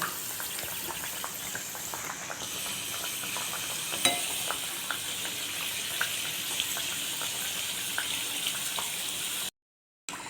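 Wheat masala puri frying in oil over a low flame, a steady close sizzle with soft crackles and small pops throughout, no talking, cutting out abruptly near the end.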